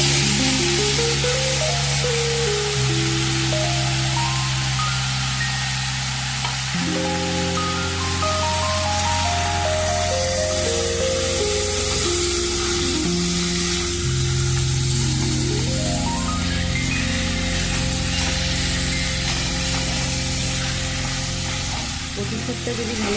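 Taro leaves (kochu shak) go into hot oil with fried spices and coconut in a pan, raising a steady, broad sizzling hiss that lasts throughout beneath prominent background music.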